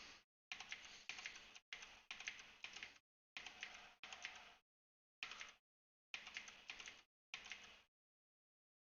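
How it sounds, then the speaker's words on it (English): Mechanical keys on a Razer Orbweaver keypad click in quick clustered bursts separated by silent gaps, crisp and close with no talking. "I'm sorry if you can hear my orb weaver buttons clicking. They are mechanical keys, and they do make quite a loud clicking noise."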